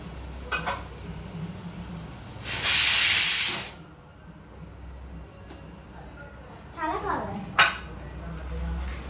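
A pressure cooker on the stove, cooking khichdi with bottle gourd and carrot, gives one loud burst of steam hiss lasting about a second, with faint kitchen clatter and soft rattles before and after.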